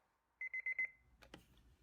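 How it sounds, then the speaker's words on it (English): A battery-powered alarm clock gives four quick, close beeps, followed by a couple of brief thumps and rustles, with no one speaking. "operate the alarm clock, which then turns to sound energy to make noise"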